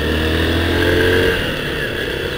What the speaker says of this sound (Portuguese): Olha que toque essa moto tem.